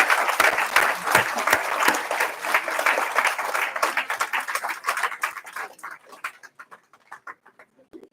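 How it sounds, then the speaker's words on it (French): A congregation at a baptism service breaks into loud, sustained applause for Jean-Marc, dense clapping that gradually thins into scattered, fading claps toward the end. "Je crois qu'on peut appeler applaudir Jean-Marc."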